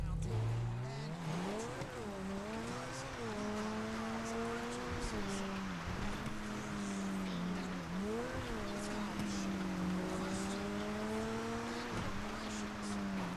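A turbocharged car engine in Grand Theft Auto V revs loudly and steadily, its pitch climbing and dipping with throttle changes, and a faint voice sits beneath it.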